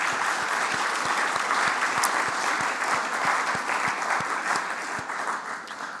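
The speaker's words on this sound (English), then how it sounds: "can we give a big round of applause to them?" Audience applause at a conference's closing session, a steady dense wash of many hands clapping that holds at an even level throughout.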